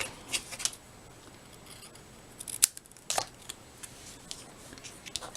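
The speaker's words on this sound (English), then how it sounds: "Snip it off just a little bit." Scissors snip a few times while a long strip is trimmed for a scrapbook page, giving crisp close cuts separated by quiet rustling of paper and craft materials.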